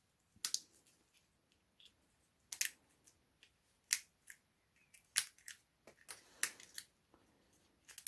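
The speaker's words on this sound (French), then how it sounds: "Donc on prend la pince et on coupe." Pliers snip and clip pieces off a 3D-printed sculpture in a quiet workshop. Sharp, isolated cuts and clicks come at irregular intervals, close and crisp, with no talking.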